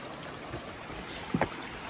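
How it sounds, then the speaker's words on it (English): A river runs through a forest on the Tossals Verds ascent in Mallorca, producing a soft, steady rush of water with a brief splashy burble near the end. "a river running through a forest. I think there's nothing more beautiful than the water and the sound of it."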